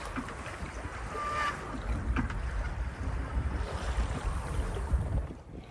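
Sailing yacht moving at about four knots in light, calm conditions a couple of hours out of Douglas, Isle of Man: steady close rush of water along the hull with soft wind noise, no voices.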